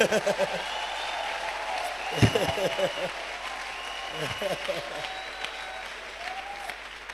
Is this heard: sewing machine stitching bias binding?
no